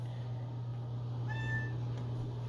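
A cat gives one short, faint meow partway through, set against a steady low hum of room noise and with no talking.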